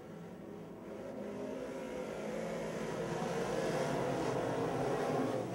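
Modified race cars on a quarter-mile dirt speedway at a heats-up start, a blended engine roar rising steadily in loudness as the pack approaches from mid-distance.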